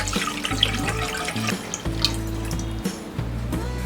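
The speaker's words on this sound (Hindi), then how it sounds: "पैन में डालेंगे ये पानी" Tap water runs steadily into a pan for boiling sweet corn, giving an unbroken splashing rush with a low ringing hum underneath and no talk.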